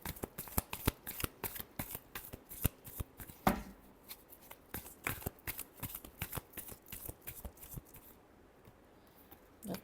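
Tarot cards being shuffled by hand, a quick run of crisp riffling slaps close to the mic, mostly alone with only faint background sound.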